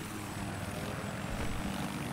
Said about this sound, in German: Ah, eine Havoc oder was?